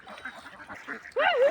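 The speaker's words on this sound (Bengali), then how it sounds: "এই দেখেন হাঁসগুলো তো মাছ খাওয়ার জন্য পাগল হয়ে গেছে।" Ducks at a village pond quack loudly and close in a sudden excited burst near the end, after softer background noise.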